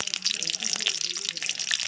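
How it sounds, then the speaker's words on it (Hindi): Cooking water from boiled spiny gourd (kantola) poured away into a sink, a steady close splashing gush of water running throughout. "तो ये मैं पानी को फेंक दूँगी।"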